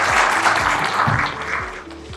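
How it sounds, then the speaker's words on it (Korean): Audience applause at an academic conference welcoming a deputy mayor to the podium, a steady dense wash of clapping that holds throughout at moderate loudness with no talk over it. "박수로 환영해 주시기 바랍니다."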